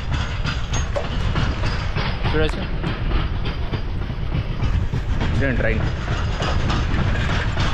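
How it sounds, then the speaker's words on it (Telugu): A train passes close by with a loud continuous rumble and clattering wheel noise, under a person speaking a few words near a railway station. "ట్రైన్"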